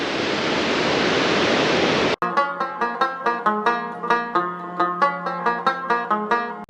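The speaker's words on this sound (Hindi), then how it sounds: "जिसका पानी शोर मचाता हुआ आगे की तरफ जा रहा है।" Loud broadband rush of the Astore river, water roaring steadily for about two seconds before cutting abruptly to other sounds.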